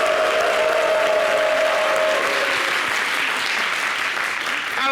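A studio audience at a French-language TV variety show applauds loudly and continuously, a thick wash of clapping with faint crowd voices and a brief tone fading out early on.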